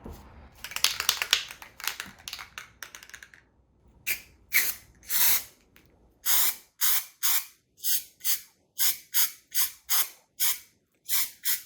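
Hissing bursts from a texture sprayer spraying texture onto repaired drywall, first a long ragged spray, then a steady series of short, even puffs close by.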